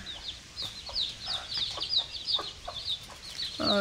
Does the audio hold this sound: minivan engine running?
no